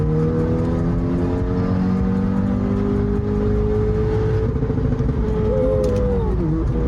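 A car engine revs hard at full throttle while the car accelerates, a loud continuous drone rising in pitch. The car runs without a catalytic converter, and the engine noise stays steady and close with no speech over it.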